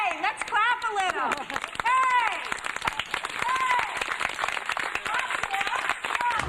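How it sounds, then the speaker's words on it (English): Audience clapping at a dance company special event, a scattered run of claps under loud whoops and cheering voices, with the clapping carrying on steadily after the shouts fade. "let's clap a little."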